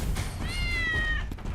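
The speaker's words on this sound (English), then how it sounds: "There's a cat." A cat in the video game The Bridge Curse 2 lets out a single drawn-out meow, clear and fairly close, over a low background rumble.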